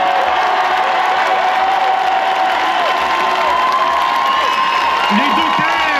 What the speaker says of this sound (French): je vous propose de réserver un tonnerre d'applaudissements pour les dockers de Marseille.